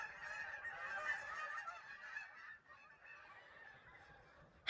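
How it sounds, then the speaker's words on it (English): Geese honk in a dense, overlapping flock chorus, fairly faint and distant, continuous for several seconds with no voices. "Guys, the geese."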